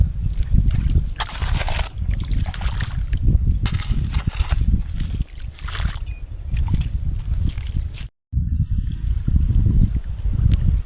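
Irrigation water rushes fast and forcefully through farm field channels in hot weather, as a rough churning gush with surges and low rumbling. There is a brief dropout near the end.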